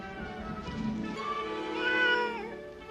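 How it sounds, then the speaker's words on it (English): A cat stuck up a tree in a Superman movie gives a drawn-out, wavering meow, rising and falling in pitch over a few seconds, fairly clear and alone with no talk. "He was saving cats from trees."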